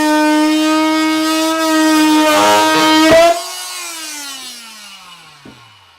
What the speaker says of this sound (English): So I use my oscillating tool to cut that.